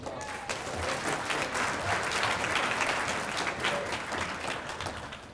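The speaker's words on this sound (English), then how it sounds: "Give a big round of applause." Audience applause in a packed room at a science and technology summit, welcoming a speaker from a business consulting firm; dense, sustained clapping that holds steady for several seconds at even volume.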